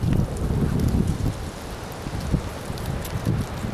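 Strong storm winds of around 50 mph gust across an open area under building anvil clouds, a dense, rushing roar buffeting the microphone continuously, with no talking.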